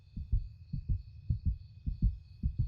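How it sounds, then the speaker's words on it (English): Quickening heartbeat sound effect in a vampire roleplay, low thumping double beats repeating steadily at close range against a faint high steady hum, with no talking. "I can hear your heartbeat quickening."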